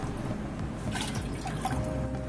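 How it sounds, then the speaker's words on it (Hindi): Water, three cups' worth, poured into a pan, a steady close splashing and gurgling stream that runs throughout. "काढ़ा बनाने के लिए 3 कप पानी डालेंगे पैन में।"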